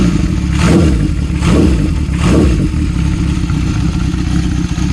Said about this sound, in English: Fires up nicely. It's not leaking anymore.